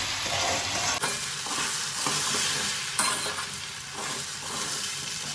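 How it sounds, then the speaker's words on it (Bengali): Semolina being stirred into fried vegetables in a pan for upma, a continuous frying sizzle with rhythmic spatula scrapes and a couple of sharper knocks against the pan, close and loud. "এবার আমি এর মধ্যে এই যে সুজিটা দিয়ে দিচ্ছি সুজিটা দিয়েও এর সাথে ভালোভাবে মিশিয়ে নেবো"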